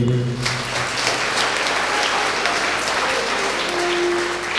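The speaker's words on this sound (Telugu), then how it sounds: "నిజంగా సంతోషం కూడా చప్పట్లు కొట్టండి" A congregation at a Catholic healing Mass claps steadily, a dense, even wash of applause lasting several seconds with faint voices underneath.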